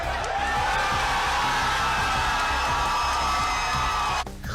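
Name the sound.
audience clapping, screaming and shouting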